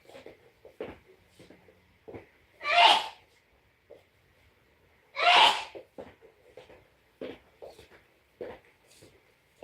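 Two loud, close sneezes a few seconds apart, each a sharp burst, from an adult woman at home, with quiet rustling and small sounds between them and no talk.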